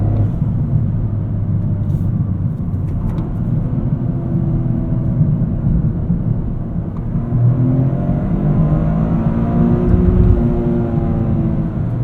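A 2023 Toyota GR Corolla's engine rises and falls under throttle from inside the cabin during street driving, a loud, steady low rumble with revs climbing toward the end.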